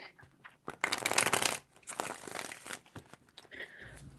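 Tarot cards being shuffled by hand, close and crisp, several riffling bursts of papery flutter and snaps separated by brief pauses, with no talking.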